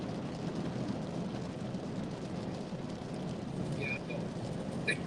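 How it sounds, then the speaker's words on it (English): Steady rain falls during a severe Oklahoma storm, a continuous dense hiss lasting throughout, loud and uniform with no voices heard. "my efforts to get away from the rain was not"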